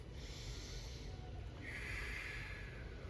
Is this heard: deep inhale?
yes